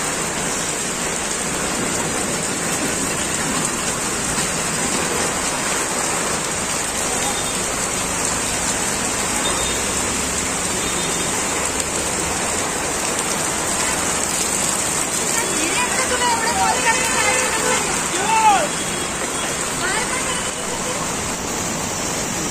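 Heavy monsoon rain pours steadily on flooded streets in Virar, a dense, continuous hiss with water splashing throughout and no pauses.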